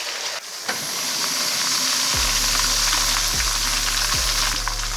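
Chilis infuse in oil over low heat in a pan, a steady close hiss of sizzling throughout, with a low rhythmic hum pulsing underneath from about two seconds on.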